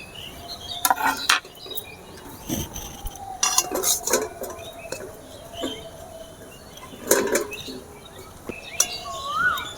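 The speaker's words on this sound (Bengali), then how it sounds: "সমস্ত কিছু এভাবে ভালো করে মিশিয়ে নিয়েছি" Utensils clink and scrape in a bowl as potato-ring dough with chopped coriander is mixed by hand, with scattered clatters and soft scraping, no talking.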